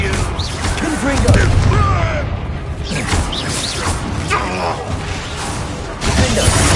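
A Confringo spell blast in Hogwarts Legacy bursts as a loud, close booming explosion with crashing debris and whooshes, set among shouting voices and chaotic battle noise.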